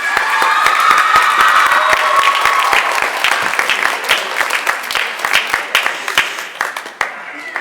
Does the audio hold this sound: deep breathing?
no